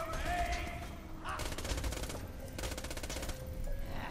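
Gunfire in the video game Borderlands 2, bursts of rapid shots and crackling impacts stacked over game effects and a tonal hum, loud and close, with a brief voice in the background.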